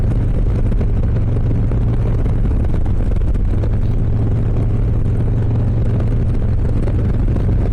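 A 2023 Harley-Davidson Low Rider S cruises on a highway in fifth gear at under 3,000 rpm, giving a loud, constant low engine drone mixed with wind rush, steady throughout with no speech.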